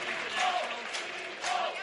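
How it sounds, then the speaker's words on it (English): Fans in a hockey arena at a men's college ice hockey game, RPI against Quinnipiac, applaud as an injured player stays in, a distant, faint wash of clapping and crowd noise under a commentator's voice. "let's give Scotty Diebold a round of applause"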